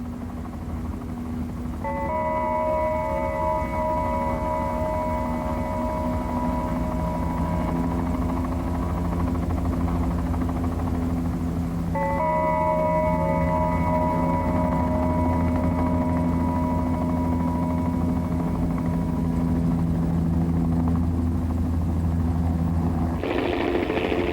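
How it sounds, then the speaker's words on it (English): A helicopter sets down at the ancient Loulan ruins beside the Salt Marsh, its steady low engine and rotor drone filling the whole stretch without pause, with sustained tones layered over it. "one team landed in Loulan by helicopter"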